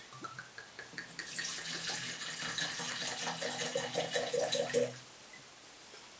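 Sicilian dry red Nero d'Avola wine poured into a glass: a close, steady gurgling splash that runs for about four seconds with no other sound, then stops sharply.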